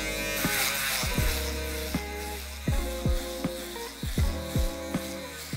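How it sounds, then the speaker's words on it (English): Electric shaver buzzing close up while finishing a high fade haircut, a steady hum with repeated quick clicks and pitch dips as it moves across the skin. "now you're gonna use your shaver and get all the rest of that just to polish it all up"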